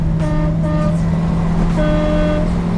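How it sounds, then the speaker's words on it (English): A loud, deep train horn fitted to a truck blares in several sustained blasts with brief gaps, layered over steady road and engine rumble. "I got the train horn too"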